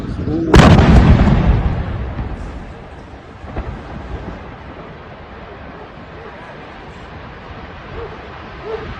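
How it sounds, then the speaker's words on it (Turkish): A sudden loud factory explosion in Tuzla, Istanbul booms and rumbles for a couple of seconds, then fades into a low roar of crackling fire and background noise. "Tuzla'da bir fabrikada meydana gelen patlama yürekleri ağza getirdi."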